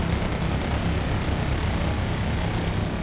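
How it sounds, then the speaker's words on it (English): A Lynx helicopter in the video game WarGame: AirLand Battle gives a steady, droning engine and rotor roar that holds at an even level throughout, with no talking. "I'm bringing up my remaining Lynx helicopter here."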